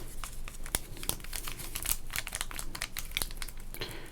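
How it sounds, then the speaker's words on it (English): A Topps sports card pack with gum inside, a 1988 Score wrapper, crinkled and torn open up close, giving dense, continuous crackling with sharp snaps throughout. "if we open up the Topps cards"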